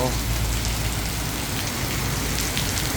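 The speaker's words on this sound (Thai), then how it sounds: "ตกเยอะเลยอะเยอะมาก นะครับฝนตกทุกคน" Heavy storm rain pours down in Kanchanaburi, Thailand, in a dense, constant hiss, drops pattering steadily on surfaces with no pauses.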